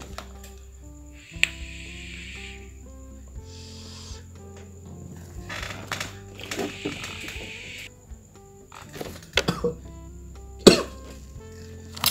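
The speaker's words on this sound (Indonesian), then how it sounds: "Tadi keselak ini uap, keselak uap." Someone coughs several times in harsh, raspy bursts after choking on vape vapor, with pauses and a throat-clearing in between, up close over a quiet background hum.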